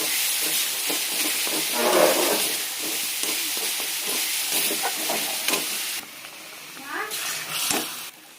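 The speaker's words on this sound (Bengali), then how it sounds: "এখন পনিরটা দিয়ে দিলাম" Fried paneer, soaked in water, goes into a hot pan with a loud, continuous sizzle and hiss, while rhythmic stirring scrapes run through it. A voice talks over the cooking.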